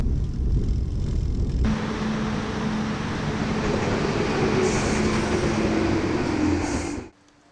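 A passenger train rolls between stations in Catalonia, with loud, steady rumbling and rail noise throughout and a low hum, cutting off abruptly near the end.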